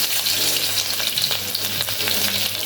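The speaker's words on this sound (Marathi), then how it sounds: "हे बघा तेल छानपैकी गरम झालेलं आहे त्याच्यामध्ये जाणारी लसूण" Garlic dropped into hot oil for a lettuce-free Marathi lasuni methi bhaji sizzles loudly and steadily, a dense continuous frying hiss with small crackles and stirring, no voices over it.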